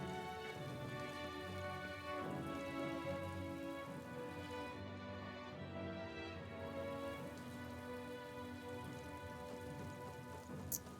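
Steady rain falls in the video game Metaphor: ReFantazio, a soft, continuous hiss of drops on surfaces that stays even throughout, with faint sustained tones underneath.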